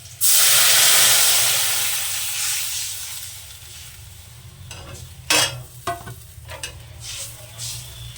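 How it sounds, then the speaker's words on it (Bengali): Water is poured into a hot pan of mustard oil and green chillies while a fish curry cooks, setting off a loud burst of sizzling and hissing steam that fades gradually, followed by scattered stirring clatter. "এবার দিয়ে দেবো জলটা"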